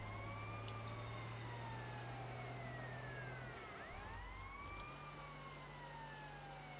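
Fire truck siren in GTA Vice City wailing loudly and continuously, its rising and falling sweeps layered over a steady low engine drone, with no talking.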